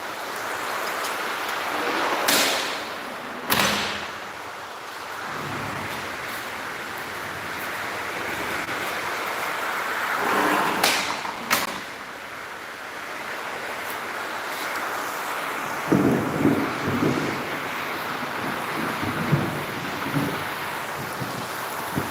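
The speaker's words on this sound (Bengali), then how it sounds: "প্রচুর পরিমাণে বৃষ্টি শুরু হয়ে গেছে" Heavy rain pours down in a steady, loud broadband rush, with gusty swells and a few sharp knocks and spatters close to the microphone.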